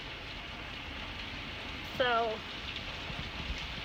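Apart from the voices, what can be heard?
heavy rain during severe storm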